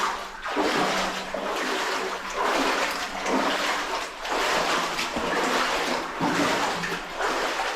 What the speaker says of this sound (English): Sorry about the noisy water.